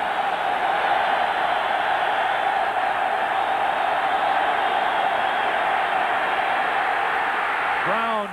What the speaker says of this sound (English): this Kingdome crowd gets into it